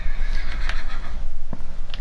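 A white horse in Minecraft whinnies and neighs, close and loud, with a few repeated calls and faint hoof clops between them.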